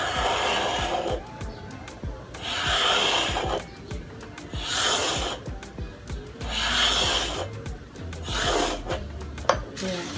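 Hand saw rasping through a whole laminate sheet in repeated slow strokes, each pass a bright scraping burst with short pauses between, close and fairly loud with no voices over it.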